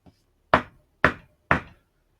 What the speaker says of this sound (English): Knock, knock, knock, went the rapper of the street gate.